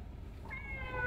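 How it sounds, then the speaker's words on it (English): A cat in the Demon Slayer Hinokami Chronicles video game gives a single short, rising meow that emerges near the end from quiet background ambience. "it would be invisible until it meowed, and then vanish again when it meowed a second time"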